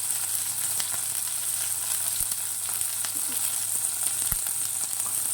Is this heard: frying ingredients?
yes